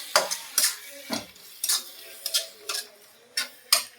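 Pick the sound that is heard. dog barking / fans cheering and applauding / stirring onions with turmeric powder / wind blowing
stirring onions with turmeric powder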